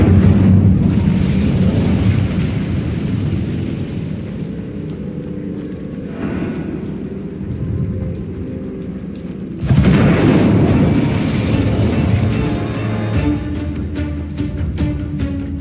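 An Incendio fire spell blasts in the Hogwarts Legacy video game, a loud, sustained rumbling roar that surges sharply again about two-thirds of the way through.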